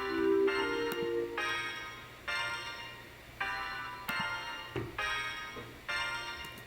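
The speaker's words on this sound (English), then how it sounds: "So that's the sound of just the piano strings" A synthesized piano-string layer sounds as a series of separate struck notes, roughly one a second, each with a sharp onset and ringing decay, alone with no talk.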